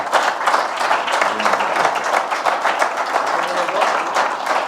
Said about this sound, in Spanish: este año te llevas 2 aplausos